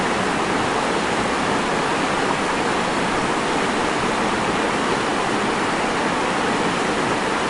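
Floodwater rushes through Guangdong streets during massive flooding, a dense, constant roar of churning water with no breaks, loud and close throughout.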